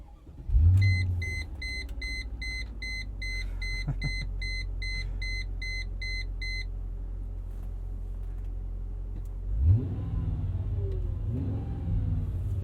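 A 2000 Mercedes-Benz ML55 AMG V8 cranks and fires into a loud, steady idle while a chime beeps repeatedly, then the engine is revved once sharply near the end and settles back into a deep rumble.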